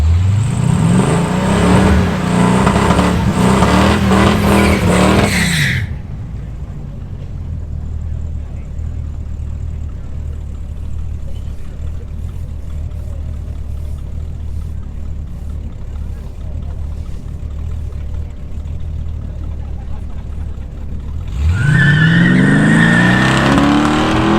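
Drag racing cars, including a Chevrolet Chevelle, blast loudly off the line and down the strip, then give way to a long quieter stretch of distant engine rumble before another loud roaring run closes in.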